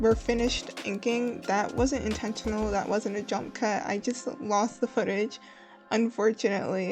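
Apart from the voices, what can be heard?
No everyday noise stands out behind the speech.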